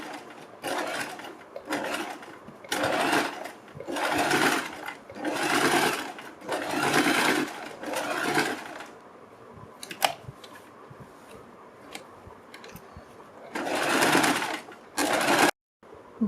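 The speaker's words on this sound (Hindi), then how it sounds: "बीच में सिलाई लगाने के बाद हम बुकरम के बिल्कुल बराबर में पूरे गले के ऊपर सिलाई लगाएंगे।" A sewing machine stitches around a blouse back neck beside the buckram, running in about eight loud, rhythmic whirring bursts separated by short pauses.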